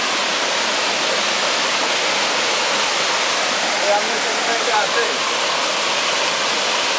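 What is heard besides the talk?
large waterfall in Bangladesh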